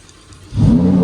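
A 2023 Lamborghini Huracan Evo engine fires up after a quiet moment, bursting into a loud, close rev that settles into a strong rumble.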